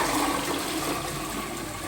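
A toilet flushes in a cleaned rental flat, making a loud continuous rush of water that holds steady for the whole stretch with no talking.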